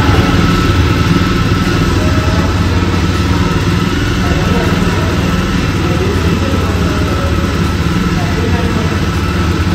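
A 2022 Jawa 42 Bobber single-seat motorcycle runs with a loud, close, steady engine rumble throughout, while a person talks over it.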